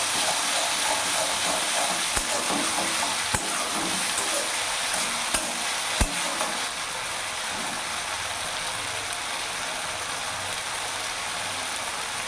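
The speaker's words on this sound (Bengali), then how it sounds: "যেহেতু আমি মশলাটা কষছি ওই জন্য।" Masala spices frying over a medium gas flame for egg curry make a loud, continuous sizzle close by, with a few sharp clicks of a spoon against the pan while stirring.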